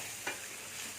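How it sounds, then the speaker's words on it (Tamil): A spoon stirs thick channa dal gravy in a pan on the stove, giving one quick scraping swish over a faint, steady simmering hiss, all brief and quiet. "நல்லா சேர்த்து கிளறி விட்டுட்டு"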